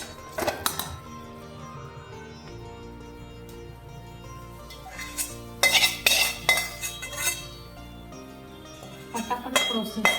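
A spoon clinks and scrapes against a pan while melted jaggery is stirred into a churma ladoo mixture, in intermittent clusters of sharp metallic knocks over a quiet kitchen background.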